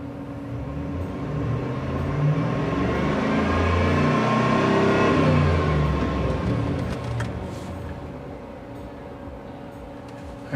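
A Chevy SSR engine climbs from idle to 4,000 RPM and back, a loud, close whine that swells steadily for several seconds, holds, then eases off, with no talking.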